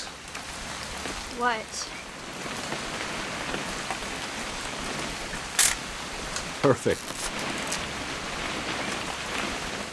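Steady rain falls on surfaces in the video game What Remains of Edith Finch, a continuous hiss of drops throughout, with brief voices, a camera shutter-like click and a couple of short sharp sounds over it.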